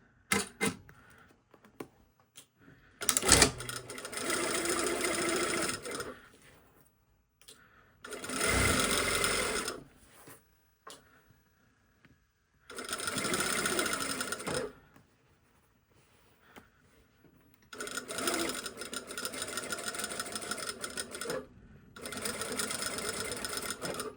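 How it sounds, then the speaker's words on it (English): Sewing machine stitching pocket bags together for a single welt pocket, several loud bursts of rapid mechanical whirring separated by pauses, close by. "just sewing the pocket bags."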